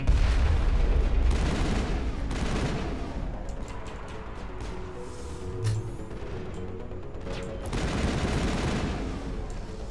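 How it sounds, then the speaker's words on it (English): Sustained assault rifle fire in the video game Mass Effect, a dense, loud rolling burst with overlapping shots and booms that carries on for most of the stretch, swelling again near the end. "Long burst of accurate assault rifle"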